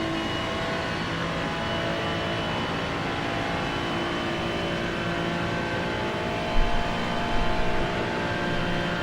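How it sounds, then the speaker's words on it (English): A Ferrari 296 GT3 race car in the iRacing sim holds a steady, droning engine tone at speed, constant and fairly loud, with a couple of brief bumps near the end. "It's the Ferrari 296, I believe. The new GT3 Ferrari"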